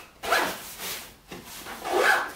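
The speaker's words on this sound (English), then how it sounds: "Again, big zipper" The big zipper on a Minaal Carry-On travel bag is pulled in two quick, close rasping strokes with a short pause between them, loud and clear with no talking.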